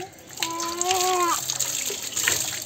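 Tap water running steadily into a bathing area at a home in Bengal, a continuous broadband rush with a voice briefly heard over it.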